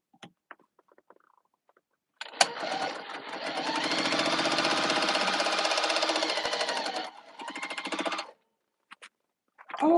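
A sewing machine stitches quilt pieces in a rapid, steady mechanical whir lasting several seconds, pausing briefly before a shorter burst, with faint clicks and handling sounds before and after.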